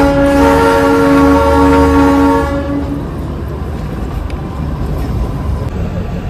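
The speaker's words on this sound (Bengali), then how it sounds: "আমাদের টয় ট্রেন ঢুকছে কার্শিয়াং স্টেশনে" The Darjeeling toy train pulls into Kurseong station with a loud sustained horn blast over rumbling wheels, the horn cutting off partway and the rolling train noise continuing alone.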